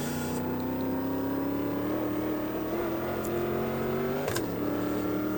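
Race car engine in Automobilista 2 holding a steady, loud drone that climbs slowly in pitch through a lap, with a brief shift-like blip near the end and no talking.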